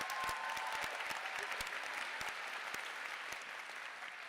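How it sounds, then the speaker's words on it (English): An audience applauds at a girls' school graduation ceremony, a sustained crowd of hands clapping with distinct nearby claps punctuating it, gradually easing toward the end. "So one more round of applause for these wonderful group."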